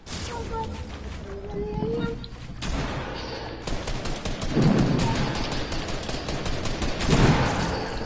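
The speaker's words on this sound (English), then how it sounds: "Oh my god, there's two people shooting at me." Rapid gunfire from several players crackles in a video game firefight, dense bursts and volleys overlapping, with occasional talk mixed in.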